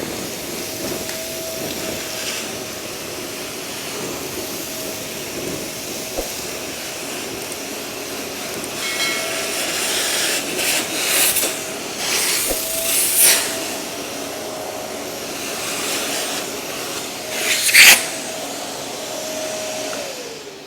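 A vacuum with a dust cyclone separator on a space-saving cart drones steadily while cleaning up a dust pile, with intermittent rattling and hissing bursts as debris is sucked in.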